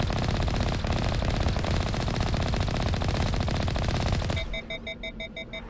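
Rapid automatic gunfire in Mass Effect Legendary Edition, loud and sustained as a dense stream of shots, then breaking off into quieter electronic beeping tones.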